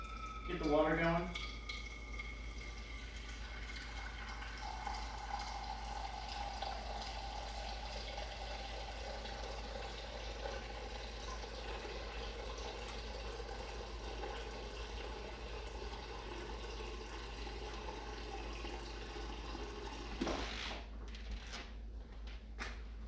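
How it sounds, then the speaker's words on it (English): Water runs steadily from a kitchen tap for about twenty seconds, a constant faint hiss with a brief clatter at the start and a few knocks near the end as it stops. "Get the water going."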